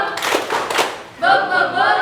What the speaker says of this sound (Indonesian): kalau ibu mengatakan tepuk semangat, berarti kita akan mengadakan tepuk tangan